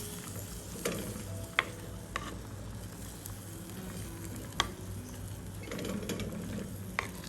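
Eggplant curry with coconut milk is stirred in a pot, a soft bubbling simmer with a few sharp utensil taps, quiet and close, with no speech.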